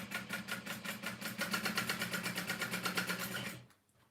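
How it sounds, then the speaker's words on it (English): A sewing machine runs close up as it stitches around the straight sides of a fabric bag, its needle beating in a fast even rhythm for several seconds before it stops abruptly. "I'm just going to sew around all the straight sides, not in the corners or anything like that."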